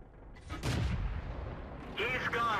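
A heavy tank cannon shot booms in World of Tanks, followed by a rumbling tail and a second burst of sharp crackling noise, with someone talking over the game sound.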